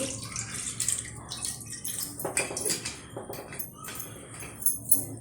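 Water splashes and trickles into a wok set on a gas stove, a soft, close pouring with a few light metallic clinks.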